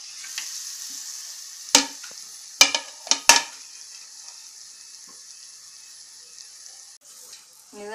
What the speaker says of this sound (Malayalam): ഈ തക്കാളി നന്നായി ഒന്ന് വെന്ത് വരുന്ന വരെ നമുക്ക് നന്നായി ഒന്ന് ഇളക്കി കൊടുക്കും.